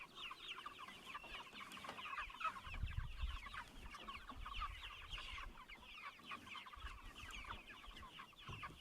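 Cornish Cross meat chickens cluck steadily inside a chicken tractor on grass, a dense flock chorus of overlapping clucks and chatter kept close and continuous throughout, with no talk.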